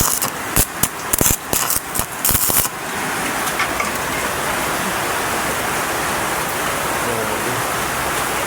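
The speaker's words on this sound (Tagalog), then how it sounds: "Lakas pa rin ang ulan dito" Heavy rain pours steadily in a dense, even hiss at a window-grill welding job site, starting after a few seconds of sharp clattering knocks and continuing unbroken to the end.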